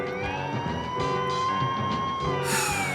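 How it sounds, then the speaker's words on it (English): Wailing police cruiser sirens rise and fall as they approach a shooting scene, over a rumbling background, fairly loud and sweeping in pitch, with a sharp burst of noise near the end. "you hear sirens in the background from cruisers approaching the"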